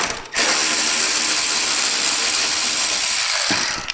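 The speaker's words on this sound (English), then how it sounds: "We got a little wing right here with a Torx 25 in here. We're going to remove that." Torx 25 bolts being backed out of a Softail motorcycle with a ratchet: a loud, steady, close-up whirring rattle that runs for about three seconds, with no voices.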